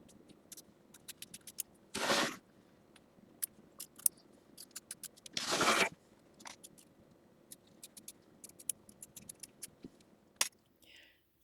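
Scissors trim fabric on an embroidered quilt block, giving two sustained cutting bursts among small sharp snips and clicks in a quiet room.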